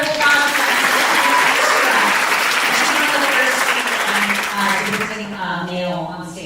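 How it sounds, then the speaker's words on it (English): An audience applauds loudly and continuously after a solo dance debut performance, then fades near the end as a voice begins talking. "I want to give her a round of applause."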